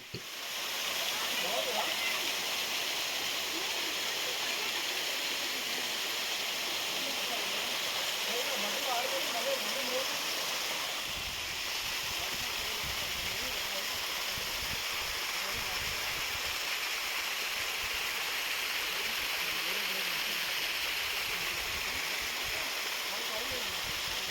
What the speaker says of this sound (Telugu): శ్రీశైలానికి వెళ్తున్న రూట్లోనే ఇంత మంచి వాటర్ ఫాల్స్ ఉందని చాలామందికి తెలియదు